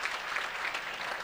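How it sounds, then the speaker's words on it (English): A brief, faint round of applause from a gala dinner and award ceremony audience honoring medical sciences students, steady distant clapping with no talk. "Let's give them a round of applause."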